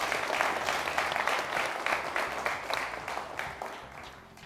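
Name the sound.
round of applause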